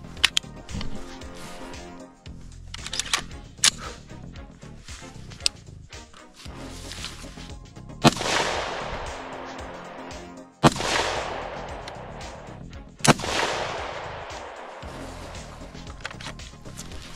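Rifle shots on an outdoor range while optics are zeroed on a HAENEL CR223 and an ASTRA VG4: a few loud, sharp single reports, spaced seconds apart, each trailing into a long echoing decay, with quieter handling noises between.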